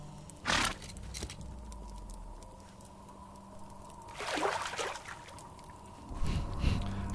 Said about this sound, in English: Nice water sound effect.